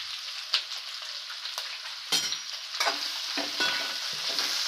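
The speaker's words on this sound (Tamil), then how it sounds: "நல்லா வதக்கிக்கலாம்." Onions and five green chillies sautéing in a pan for ghee rice and chicken gravy, a steady close sizzle with scattered stirring scrapes and spatula knocks, no talk.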